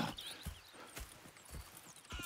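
Horse hooves clip-clopping in Red Dead Redemption 2, a steady walking rhythm of soft, fairly close hoof falls, with no talk.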